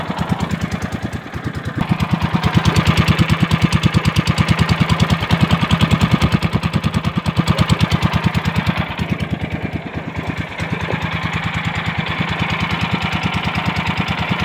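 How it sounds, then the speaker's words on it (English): Small engine on a go kart race mower runs at a fast, throbbing idle while shaking on loosely tightened mounts, loud and close with rapid rhythmic pulses and a rattly edge throughout. "The engine's shaking a lot because I didn't really tighten down the mounts."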